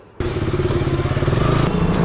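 A TVS Ntorq 125 scooter engine starts abruptly after a quiet moment, then settles into a steady, close, loud idle with a fast pulsing rhythm.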